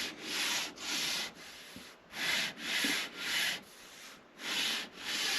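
Wooden guitar back with a thin decorative veneer backstripe being hand-sanded, steady raspy strokes in rhythmic bursts of about half a second with short pauses, close and fairly loud with no talk.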